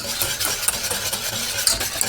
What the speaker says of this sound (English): Just whisk that up.